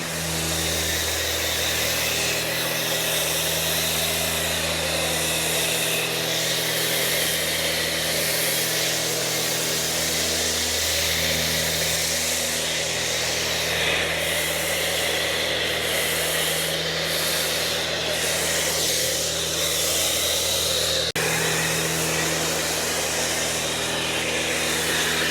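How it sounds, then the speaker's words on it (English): A foam sprayer coats a car with Prewash 2.0 snow foam, a wet foam used for a spring cleanup after winter. It gives a steady, close hiss that runs unbroken for the whole stretch with no voices. "Let's foam this down, let it dwell, and eat up that dirt and grime."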